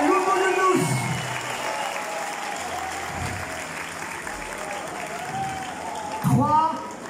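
A concert audience at a live show at the Élysée Montmartre in Paris applauds steadily with crowd noise, while a voice speaks over it near the beginning and again near the end.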